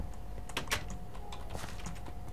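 Rapid, uneven clatter of keys on a new computer keyboard, close and crisp, a continuous burst of typing with no talk.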